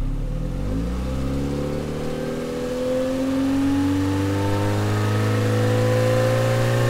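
A recorded car engine revs steadily upward, its loud mid-pitched drone rising in pitch throughout with no talk over it, played back through AudioMotors engine sound software.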